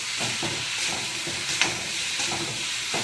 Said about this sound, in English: Broccoli, baby corn and mushrooms sauté हो गए हैं